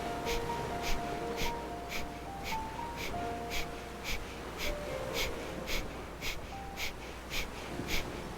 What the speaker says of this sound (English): It's 5 minutes of Kapalabhati breathing.